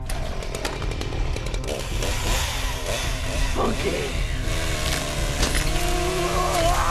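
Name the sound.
chainsaw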